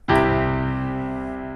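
A single sustained chord struck once on a keyed instrument, a major triad inversion played with the bass note added, ringing out loud and clear and slowly decaying with no talk over it.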